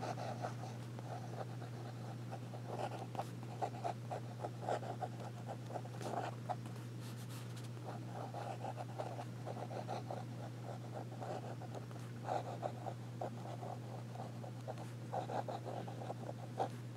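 A Jim Hinze Beacon 2 fountain pen with a wet, extra fine number 6 nib scratches softly across paper in reverse strokes, faint repeated rubbing bursts over a steady low hum.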